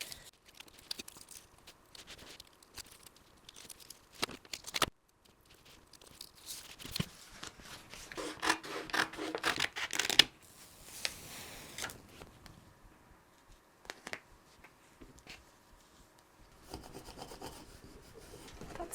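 Scissors or a blade cut through an old Trapper Keeper binder with rubbing, rasping strokes of varying loudness, close and alone with no talk.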